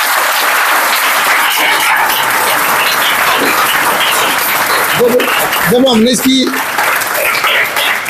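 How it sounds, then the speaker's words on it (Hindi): Children clap at a village gathering in Haryana, a loud, continuous wash of applause throughout, with a voice briefly speaking over it near the end. "ताली बजाओ बच्चों।"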